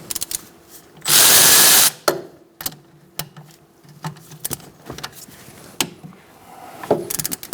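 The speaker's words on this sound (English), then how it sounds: "Using a 14mm long socket, you're going to take off your caliper." Long 14mm socket working the rear brake caliper bolts loose on a 2002-2006 Honda CR-V: one loud second-long mechanical whirr close by, then scattered sharp clicks and metallic taps.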